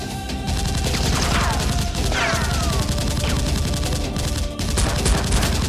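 Foam-dart Nerf blasters fire in a staged mock military battle, giving a dense, continuous run of sharp snapping shots with scattered crashes, loud and close throughout.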